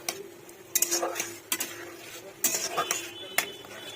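Tomato and spices being sautéed in a pan for a homemade potato curry (aloo dum), with irregular bursts of spoon scraping and metal clinks against the pan over a soft, steady sizzle.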